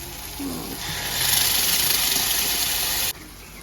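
Tamarind water poured into a hot pan of sundakkai kara kuzhambu, a loud sizzling hiss rising sharply, lasting a couple of seconds and then cutting off abruptly.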